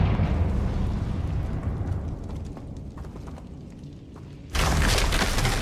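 A Confringo spell blast in Hogwarts Legacy, a sudden loud bright burst cutting in near the end after a stretch of low rumbling ambience.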